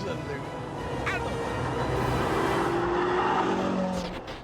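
A Ferrari SF90 plug-in hybrid supercar accelerates hard on a road, its engine note rising to a swelling roar over several seconds before fading, with a voice talking over it.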